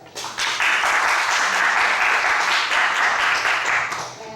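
An audience applauds at a book launch, a loud, dense round of clapping that swells quickly, holds steady for about four seconds, then tapers.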